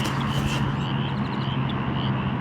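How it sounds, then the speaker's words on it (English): Frogs croak beside a small flowing river, a steady low chorus of croaks running continuously under a bed of outdoor ambience, fairly loud and close with no talking. "Do you guys hear the frogs?"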